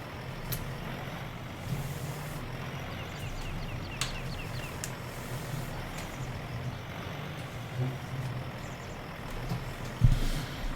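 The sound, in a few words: truck driving in the video game Farming Simulator 19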